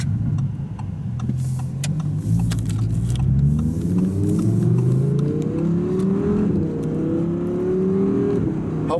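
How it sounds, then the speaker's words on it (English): Interior sound of a 2017 Audi R8 with a mid-mounted V10 behind the cabin, accelerating hard: a loud, steady engine roar climbs in pitch through the gears with rising harmonics, close and continuous, with no talking. "Hopefully you can tell from the sound, but the engine's right behind our head. They're V10 and I can really hear it."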